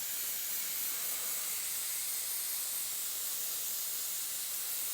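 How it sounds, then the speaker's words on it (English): An air compressor runs in a woodworking shop, giving a steady, loud broadband hiss that holds unchanged for the whole stretch with no voices. "my air compressor is going to kick on and off, obviously, so I apologize."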